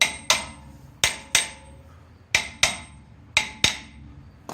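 Sharp metallic hammer blows on a brake caliper bracket strike at an uneven pace, some in quick pairs, each ringing briefly before the next hit. Close and loud, with no talking.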